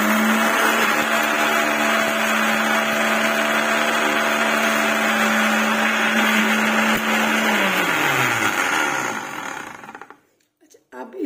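A kitchen blender whirs loudly and steadily with half a cup of sugar inside, grinding for about eight seconds before spinning down and stopping, followed by a faint handling noise.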